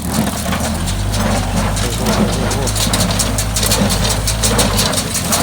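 A Massey 124 hay baler working a pile of straw alone, its engine giving a loud, steady low rumble close by, with mechanical clatter running throughout.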